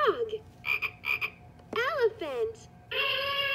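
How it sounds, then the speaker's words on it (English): A baby piano gym toy plays an electronic frog croak, a few bright chirping croaks in quick bursts, followed by a clear synthetic tone, with a recorded voice also sounding from the toy. "Frog."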